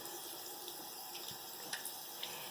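Tap water runs in a steady, faint stream at a sink while hands are rinsed, a soft continuous splashing hiss with a few small splatter accents.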